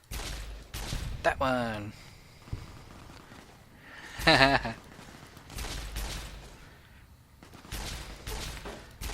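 Fallout New Vegas gunfire rings out in several sharp bursts: single shots and quick volleys spaced across the stretch, mixed with someone talking and laughing between them.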